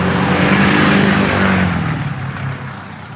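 A vehicle engine revs loudly up close, then its drone eases and fades somewhat over the final second, with no voices.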